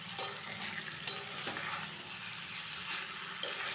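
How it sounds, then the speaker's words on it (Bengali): Hot water goes into a pan of sizzling, well-fried spice masala with meat, giving a steady hiss and bubbling with faint stirring clinks, close and moderately quiet, no voices. "এবার এটাতে গরম জল দিয়ে দেবো।"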